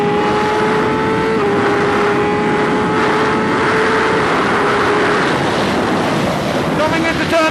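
A MotoGP motorcycle on an on-board lap at Phillip Island, with loud continuous engine whine rising and shifting in pitch under heavy wind rush throughout.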